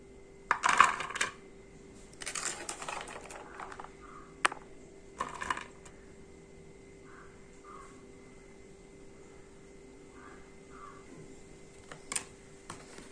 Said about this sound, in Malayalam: ചക്കക്കുരു ഇട്ട് കൊടുക്കാം കേട്ടോ